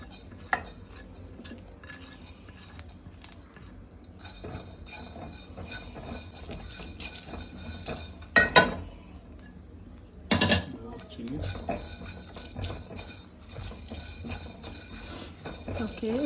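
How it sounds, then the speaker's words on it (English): Whole spices and red chilies dry-roast in an already heated pan, heard as soft scraping and stirring with scattered metallic clinks of a utensil against the pan and a few louder knocks, quiet and close. "We will now dry roast these spices."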